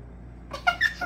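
A squeaky cardboard door on a Harry Potter Funko advent calendar being pried open, giving a few short, close, high squeaks.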